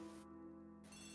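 A telephone rings faintly in The ABC Murders video game, a steady electronic ring holding without speech over it.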